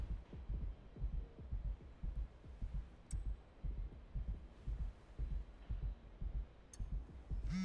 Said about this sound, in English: You can hear the heartbeats.